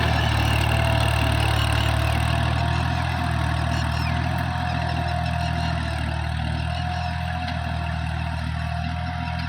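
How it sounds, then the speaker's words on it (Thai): A farm tractor brought in to level farmland in rural Phetchabun, Thailand drones steadily as its engine runs at a constant pitch, a continuous loud rumble with no voices. "นำรถไถเข้ามาปรับพื้นที่"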